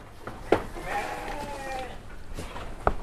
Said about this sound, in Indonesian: ini domba-dombanya nih. Domba Garut.